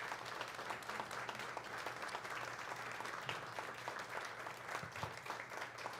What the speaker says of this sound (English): a round of applause for these musicians.